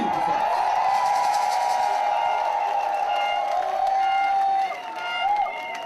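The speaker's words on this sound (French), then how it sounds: "On crie pour ça, s'il vous plaît, on applaudit." A crowd at a demonstration in The Hague calling for the release of detainees cheers and claps, with a sustained loud shout and clapping that thins out toward the end.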